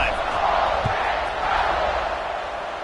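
A football stadium crowd roars in a steady, loud wash of cheering at a game's kickoff, a broad continuous din with scattered shouts throughout.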